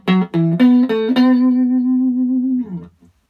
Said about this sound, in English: that gives you that sort of hollow, ultra-fast delay sound